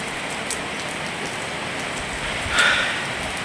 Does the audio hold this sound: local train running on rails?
no